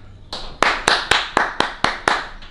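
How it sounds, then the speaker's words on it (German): A single person claps hands about eight times in a steady, moderately quick rhythm, each clap sharp and close, with a brief quiet lead-in. "Da muss man mal klatschen."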